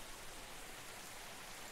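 Steady rain from the Rain Maker weather asset falling in a simple Unity3D demo scene, a dense even hiss with no distinct drops, continuous and alone with no voices.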